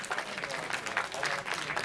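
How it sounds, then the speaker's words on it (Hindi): An audience in a college auditorium claps in welcome. The applause is brief and continuous, with rhythmic pulses of many hands, heard at moderate distance. "एक बार करतल ध्वनियों के साथ स्वागत कीजिए"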